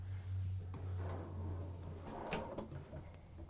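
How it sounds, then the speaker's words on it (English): A soft-closing drawer in a 2023 Newmar King Aire motorhome slides and eases shut, a quiet muffled glide with a gentle thud, faint over a low steady hum. "every drawer and cabinet in this 2023 Newmar King Aire is gonna be soft closing"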